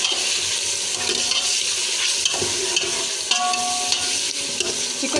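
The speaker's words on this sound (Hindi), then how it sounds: "चिकन को जो है वो हम थोड़ी देर फ्राई करेंगे" Half a kilo of chicken frying in ghee with garlic and ginger while being stirred, a continuous loud sizzle with scraping stir sounds and a brief tonal clink partway through, no speech.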